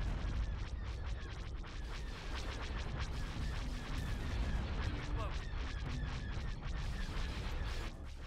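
Ship batteries fire in the space strategy game Star Wars Thrawn's Revenge, a dense, continuous stream of rapid blaster shots and rumbling impacts with faint radio-style voices mixed in.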